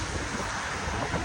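Strong wind buffets the microphone on a rainy, windy day in the UK, a loud, continuous broadband roar with no voices.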